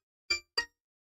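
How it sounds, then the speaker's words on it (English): A phone gives its low-battery shutdown alert as two short metallic chimes in quick succession, clear and close, surrounded by silence. "So that's my phone telling me that it's going to shut off."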